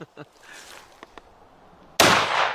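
A shotgun fires a Federal Magnum Shock 2 3/4 inch slug, one sharp, loud blast near the end that follows faint talk and small knocks.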